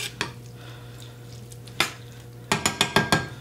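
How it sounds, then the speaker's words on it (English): A utensil stirs seasoned ingredients in a pot, giving a few scattered scrapes and then a quick run of five soft knocking taps against the pot, close and quiet over a low steady hum. "So let's just give that all a stir."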